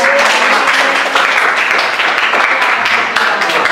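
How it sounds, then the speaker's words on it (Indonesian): Steady, dense applause from a crowd, loud and continuous throughout with no pauses. "tepuk tangan untuk jawab"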